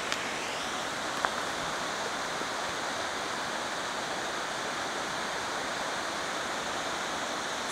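A small mountain spring stream on a glacier hiking route flows with a steady, even rush of water, close and unbroken, with no talk.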